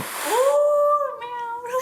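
A pet cat lets out a single drawn-out, rising and wavering meow, close and fairly loud, with a breathy hiss-like noise at the start.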